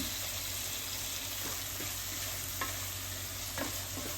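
Tomatoes melting in a pan over slow heat for bread upma, stirred with a spoon: a steady soft sizzle with faint scraping strokes every second or so, close and fairly quiet, with no talking.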